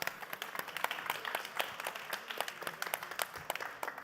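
Applause from an audience at a university science contest forum, a dense spread of sharp overlapping claps at moderate distance, steady throughout with no talking.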